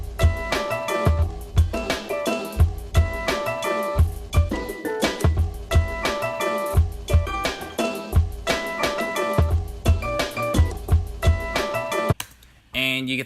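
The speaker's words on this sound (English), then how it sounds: "now we can put the chopped sample over the drums" A chopped record sample loops over a hip-hop drum beat, punchy kicks and snares under repeating melodic fragments, loud and steady, cutting off abruptly near the end.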